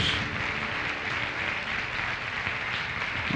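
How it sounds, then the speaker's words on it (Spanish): Congregation clapping during a church service, a thick, rumbling wash of applause, steady and fairly loud throughout. "Dale un fuerte aplauso a nuestro Dios"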